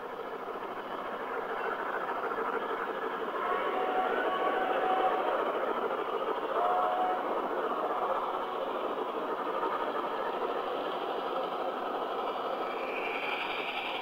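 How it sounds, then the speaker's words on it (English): Model trains running on a holiday layout, around fifteen at once including a circus train, giving a steady mid-level rumble and rolling wheel noise that continues for the whole stretch with no talking. "So we usually have 15 trains running at any time."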